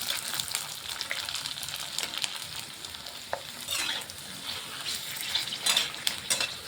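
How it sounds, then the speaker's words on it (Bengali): Fuchka puris fry in hot oil with a steady, dense sizzle and crackle, broken by occasional scrapes and taps of a spatula against the pan, close and continuous. "এই যে তেলটা গরম হয়ে গেছে, এখন এর মধ্যে আমি ফুচকা দিয়ে দিলাম। ফুচকাগুলো ভেজে দিচ্ছি।"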